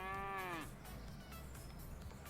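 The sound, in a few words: calves mooing in Pure Farming video game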